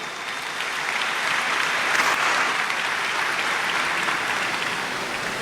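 A church congregation at Sunday Mass applauds the parish priest, with dense, steady clapping that fills the space evenly and swells slightly in the middle before easing.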